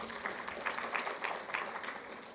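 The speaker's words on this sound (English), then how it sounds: "Let's give Dr. Jeremiah another round of applause" Conference audience at a Pan-African environment, climate and health forum applauding, a steady dense patter of clapping from a room full of people, moderately loud and continuous without talk.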